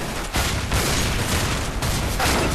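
Dense gunfire from Counter-Strike: Global Offensive, in a round where players keep shooting until they reach the knife: loud, continuous volleys of rapid shots with short pauses, close and alone without talk.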